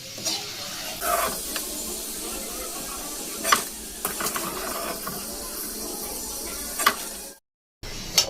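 Dal and peanuts fry over gentle heat in a pan, a soft continuous sizzle broken by scraping stirs and a few sharp clinks of a spoon against the pan, with a brief silence near the end.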